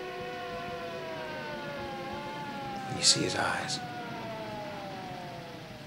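A wavering ambulance siren rises and falls steadily in the background while someone speaks briefly over it.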